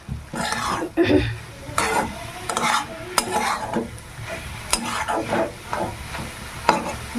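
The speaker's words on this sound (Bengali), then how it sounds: "এবার হাই ফ্লেমে দিয়ে শাকটাকে ভাজা করে নেব" Red amaranth greens sizzle in a hot pan over high flame while a spatula stirs and scrapes repeatedly in uneven strokes, loud and close.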